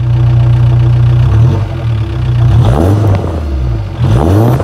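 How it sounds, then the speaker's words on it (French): A VW Golf 4 with its rear silencer removed idles loudly, then takes two or three sharp revs that rise and fall, with a deep, throaty exhaust heard close up and no talking. "Donc je vais vous faire 2-3 coups de gaz"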